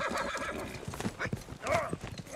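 A ridden horse's hooves clip-clop in an irregular stepping rhythm, mixed with a whinny and snorting breaths, moderately close, with faint voices in the background.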